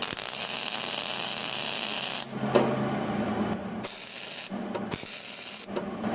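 MIG welder running a short bead on automotive sheet metal with a gap, giving a loud steady crackling hiss that breaks off and restarts several times, close up with no talking.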